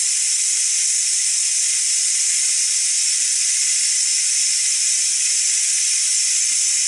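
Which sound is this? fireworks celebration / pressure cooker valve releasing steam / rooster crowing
pressure cooker valve releasing steam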